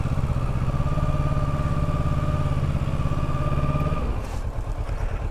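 Kawasaki Versys 650 motorcycle engine idling close by with an even rhythmic thrum and mechanical clatter, steady and loud, then cutting off near the end, leaving a quieter background.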